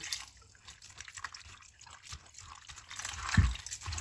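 Water dribbling and splashing softly with faint handling noises as vegetables are rinsed in a bowl, ending in a brief louder splash.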